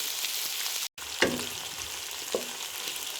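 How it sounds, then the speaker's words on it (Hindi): Onions, tomatoes and green chillies fry steadily in a pan with a continuous sizzle, a brief dropout, then two sharper stir clatters over the hiss. "अब हम इन्हें 3 मिनट तक अच्छे से फ्राई कर लेंगे ताकि हमारे टमाटर और प्याज अच्छे से सॉफ्ट हो जाएं"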